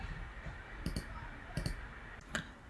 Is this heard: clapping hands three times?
no